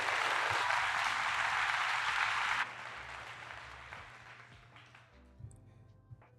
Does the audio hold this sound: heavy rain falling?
no